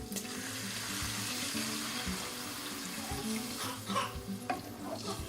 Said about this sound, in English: let's go ahead and add our beef broth